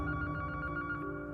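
A telephone bell rings in a busy post office, a steady electronic trill with a bright tone, loud and close, heard alone without voices.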